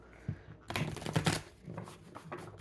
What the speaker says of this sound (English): I've already shuffled these cards, so I'm going to give them a couple more shuffles